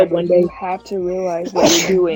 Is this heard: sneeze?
yes